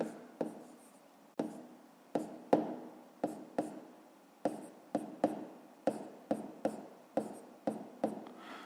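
A pen writes a math exercise on paper in quick, separate strokes and taps, close and dry, in a quiet room with no talk.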